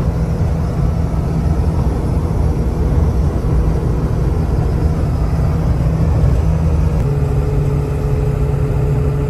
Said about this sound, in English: Just cruising on the highway, driving into the sun.